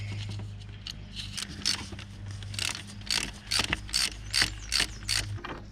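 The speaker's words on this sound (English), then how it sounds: "then it's a 10mm to tighten it up" A ratchet turning a 10mm fastener on the power steering reservoir of a second-generation Toyota 4Runner gives a series of sharp clicking bursts, close and fairly loud, over a steady low hum.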